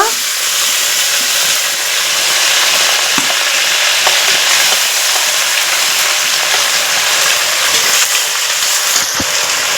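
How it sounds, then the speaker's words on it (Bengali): Ground spice paste and onions fry in a pan for an egg curry with a loud, continuous sizzle and crackle, punctuated by occasional stirring scrapes. "এখন আমি সমস্ত উপকরণ লাল করে ভেজে নিব"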